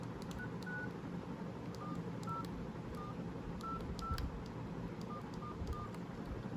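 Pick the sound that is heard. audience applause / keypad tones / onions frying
keypad tones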